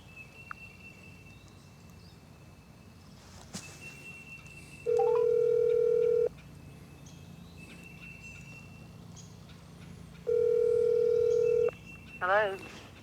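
Outdoors on a turkey hunt, a phone call goes out and two long, steady ringback tones sound a few seconds apart over faint background ambience, with people talking.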